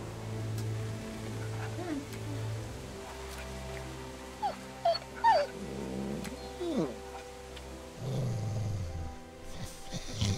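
Dog whimpering and whining in The Walking Dead Season 2 video game, several short rising whines in the middle of the stretch over low background music and ambient hum.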